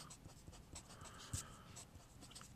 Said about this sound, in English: I'm going to write that SOHCAHTOA